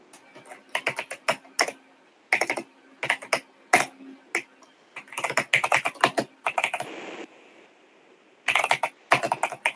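Computer keyboard typing during an organization planning session, fast bursts of clicking keys separated by short pauses, close and fairly loud, with no speech over it.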